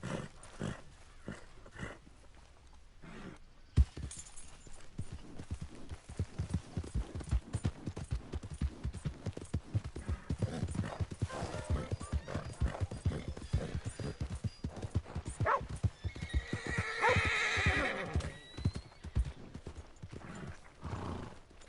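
Horse hooves clop unevenly on hard ground with snorting and a whinny, fairly faint and distant, amid outdoor rustling.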